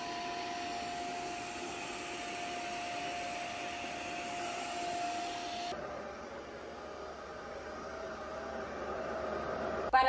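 A vacuum cleaner fitted with a floor and carpet attachment hums steadily and loudly, its motor tone shifting partway through as the load changes, with no talking.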